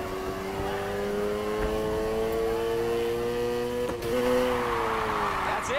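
Car drifting in Need for Speed Heat, a steady high engine whine held at sustained revs with layered harmonics, a brief shift-like dip near the four-second mark before the roar climbs again, loud and continuous with no talking.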